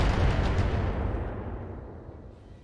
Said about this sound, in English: we got missile support coming in from some turrets